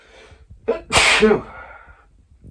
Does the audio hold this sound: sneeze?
yes